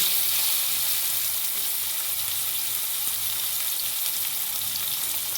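Carrots sizzling in hot oil in a pan for a winter vegetable curry, a loud, continuous bright hiss with faint stirring underneath.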